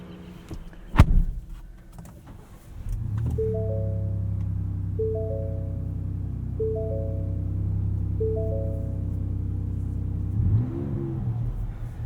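A 2024 Ford Ranger Raptor cranks and fires up after a sharp click, then settles into a steady idle broken by four evenly spaced revs before a final rev and shutoff near the end, close and loud.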